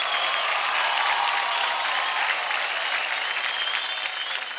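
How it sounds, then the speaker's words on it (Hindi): Studio audience applauding Akshay Kumar on a televised dance competition stage, a dense, steady wash of clapping that holds loud throughout and eases slightly at the very end. "जोरदार ताली हो जाए अक्षय कुमार के लिए।"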